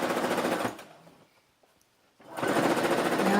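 A sewing machine stitches a puff sleeve onto the shoulder of a baby frock in two quick, rattling bursts separated by a short pause, loud and close with no talk.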